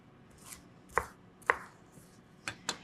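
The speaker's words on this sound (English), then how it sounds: "So I just like to cut it into a little bit smaller pieces so it's not quite so big." A knife chops seeded peppers into smaller pieces on a cutting board, a handful of sharp, separate thunks spaced irregularly, close and fairly quiet against a soft room background.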